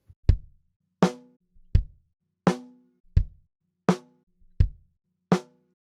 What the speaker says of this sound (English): So we'll start with the kick drum first, followed by the snare drum.